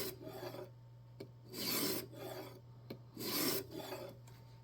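A knife blade is drawn across a sharpening stone held in a jig system, giving two distinct rasping swipes about a second and a half apart, close and quiet, with faint scraping between them.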